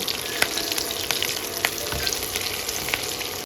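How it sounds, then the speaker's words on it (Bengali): Chopped onion and slit green chilies fry in hot oil for a Bengali ridge gourd and prawn curry, giving a dense, steady sizzle with faint crackles and occasional stirring taps. The sound is close and even throughout, with no speech. "ওই তেলেই কিন্তু আমি দিলাম দিয়ে দেবো চেরা কাঁচা লঙ্কা দিয়ে হালকা একটু নাড়াচাড়া করেই দিয়ে দেবো পেঁয়াজ কুচি"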